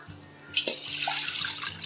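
Water poured into a cooking pot of rice for veg biryani, about one and a half cups per cup of rice; a soft splash that begins abruptly and becomes a steady, close rushing stream.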